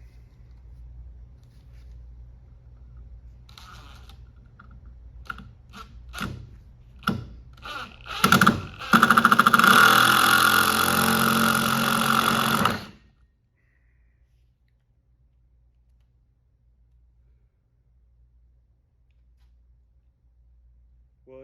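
DeWalt Flex Torque impact driver forcing a bit into wood: a few short clicks and bursts build into a loud, several-second rattling hammer, then cut off abruptly to near silence.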